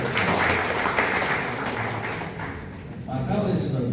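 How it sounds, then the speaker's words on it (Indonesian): An audience at a large gathering and coordination meeting in Banten applauds at close range, a sustained wash of clapping that dips slightly midway and picks back up. "Tepuk tangan untuk"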